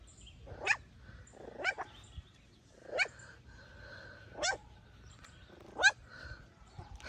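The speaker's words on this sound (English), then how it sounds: "Are you gonna hear them barking?" Five sharp barks from a dog, spaced a second or so apart, moderately near with quiet pauses between them, from a litter of puppies.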